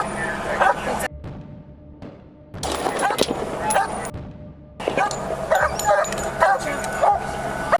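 Police K-9 dog barking and yipping in repeated loud bursts during a tense armed standoff, broken by short silent gaps, with shouting voices and commotion around it.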